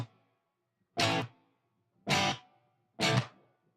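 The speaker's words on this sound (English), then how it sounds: "It is from the Tone Master Pro, and it's called a cloud, and there's very little of it on this guitar track." Three separate strummed guitar chords, each ringing about a third of a second and then cut off, with a very light cloud-style reverb from a Tone Master Pro adding a faint wash behind them.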